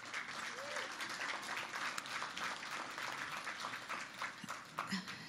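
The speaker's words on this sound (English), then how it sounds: "can we give Rick another round of applause?" An audience at a morning business networking event gives a full round of applause, dense clapping from many hands lasting throughout with a few brief calls over it.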